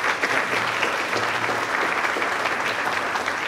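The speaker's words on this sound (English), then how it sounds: "a round of applause for our panel members this morning" An audience applauds panel members at a planetarium conference, a dense, steady clapping that fills the room throughout with no talk.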